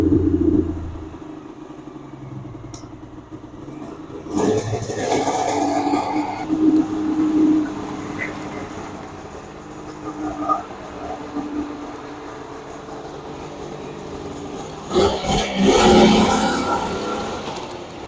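Cold engine on a Polaris snowmobile cranks and catches, then settles into a rough, uneven idle with several louder revs as the throttle rises and falls, near and fairly loud throughout.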